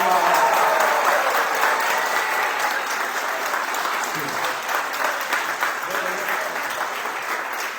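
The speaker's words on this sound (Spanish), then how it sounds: "Yo quisiera ver un aplauso como cuando se aplaude un gol de Messi o de Cristiano Ronaldo." Church congregation bursts into strong, continuous applause, loudest at the start and settling into a steady dense clapping that carries on for several seconds.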